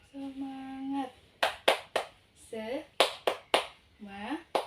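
A class of children chants together and does a rhythmic spirit clap in a classroom. Sharp, bright claps fall in short groups between the sung words.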